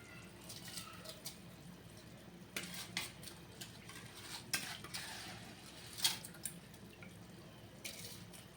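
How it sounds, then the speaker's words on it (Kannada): Rice being added and stirred for methi pulao in a kitchen pot, faint scattered clinks and scraping taps of a utensil against the vessel over a quiet background. "ನಾನಿವಾಗ ರೈಸ್ನ ಆ್ಯಡ್ ಮಾಡ್ಕೊತಾ ಇದ್ದೀನಿ"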